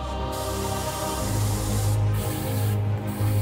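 Airbrush spraying paint texture onto a steampunk skull model, a close, steady hissing spray with a few brief pauses between short bursts.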